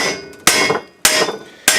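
A dead blow hammer strikes a metal exhaust header tube for a Charger header swap on a 5.7L Hemi Grand Cherokee, landing three loud, close, sharp blows about half a second apart, each ringing briefly before fading.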